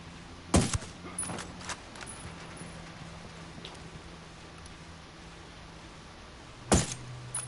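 Turret gunfire in Ghost Recon Wildlands: two sharp, loud bursts, one near the start and one near the end, with a few fainter clicks and thuds between them over quiet background noise.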